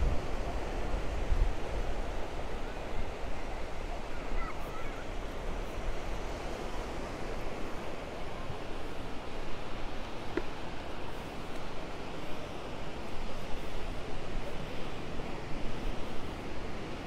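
Steady wind blowing across a wide sandy beach at El Medano, Tenerife, a continuous broad roar with faint surf mixed in and no voices.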